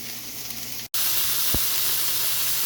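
Hamburger patties sizzling in a pan just after being flipped, a steady close hiss that breaks off for an instant and then returns, with a brief low thump partway through.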